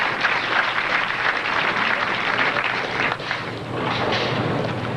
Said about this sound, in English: You heard all the cheering, Mike.